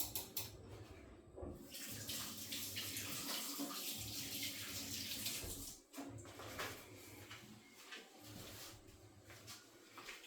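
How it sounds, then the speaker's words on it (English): Hands are washed under a running kitchen tap after handling raw beef, with a steady, fairly loud splashing rush of water that briefly breaks off midway and then resumes, close up with no talking. "I'll wash my hands first because it has the beef blood."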